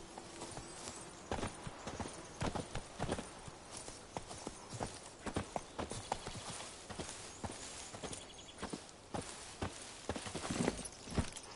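Roach, Geralt's horse in The Witcher, gallops through a forest in a steady, brisk clip-clop of hooves, close and distinct, with no talking over it.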